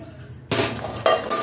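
Non-stick tawa and kadhai pans clatter as they are handled, a sudden metallic clunk followed by scraping and a couple of sharp clinks, close and moderately loud with no talking.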